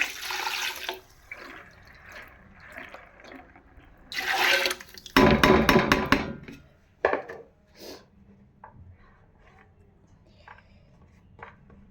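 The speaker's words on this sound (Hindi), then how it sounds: "और इसमें डालूंगी ये आधा किलो पानी।" Half a kilo of water is poured into a cooking pot for chicken kofta curry, splashing loudly in a couple of bursts amid quieter kitchen handling noises and small clinks.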